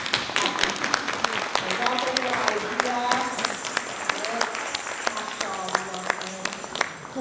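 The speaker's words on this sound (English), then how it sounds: "I think we should applaud." Audience applause at a performance festival in Thessaloniki, a steady spread of clapping running throughout while a voice talks over it.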